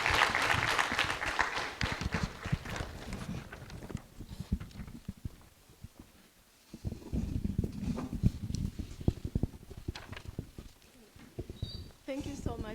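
Audience applause at a medical research mentorship event, loud and crowded at first, then thinning into scattered claps before a voice begins speaking.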